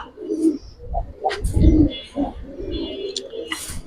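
Giribaz pigeon cooing in low, repeated throaty calls, close by, with a voice talking intermittently over them and a few brief higher chirps.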